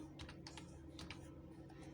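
Quiet keystrokes on a computer keyboard while entering a search in a web browser: a short run of light, irregular clicks close to the mic against a low steady hum.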